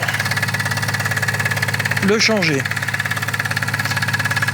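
A steady low car engine idle rumbles throughout during a vehicle roadworthiness inspection, with someone talking briefly over it partway through.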